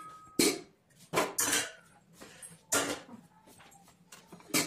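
Dishes, pots and cutlery clatter and clink in a home kitchen being cleared and cleaned, with sharp, irregular bursts of clanking separated by quieter moments, fairly close by.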